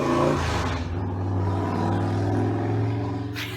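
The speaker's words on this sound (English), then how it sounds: "That was a really loud motorcycle." A loud motorcycle engine roars close by as it passes, holding a steady drone before easing off, with no voices.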